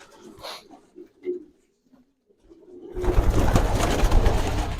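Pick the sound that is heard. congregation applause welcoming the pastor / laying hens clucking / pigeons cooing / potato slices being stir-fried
pigeons cooing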